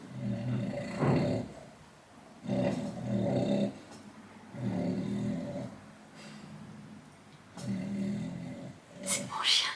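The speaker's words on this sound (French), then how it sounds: "C'est mon chien." A dog snores in slow, rumbling cycles, each drawn-out breath rising and fading with quiet gaps between, close by and otherwise alone.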